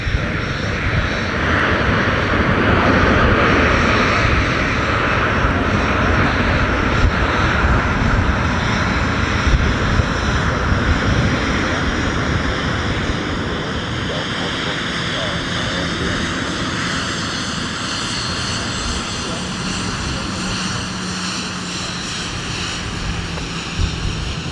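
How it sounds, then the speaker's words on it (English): A Delta heavy jet arriving from Dublin at Minneapolis–Saint Paul airport during a winter holiday rush with deicing operations gives a loud, continuous engine roar that stays steady and close for the whole stretch, easing slightly toward the end. "So our Delta Heavy from Dublin has arrived."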